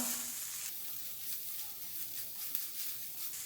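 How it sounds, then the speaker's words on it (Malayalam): Spiced beef filling for Kerala-style beef cutlets is mixed in a pan over a low flame, giving a soft, steady sizzle with faint stirring scrapes throughout. "ഇനി ഇതെല്ലാം കൂടെ ഒന്ന് മിക്സ് ചെയ്ത് കൊടുക്കാം"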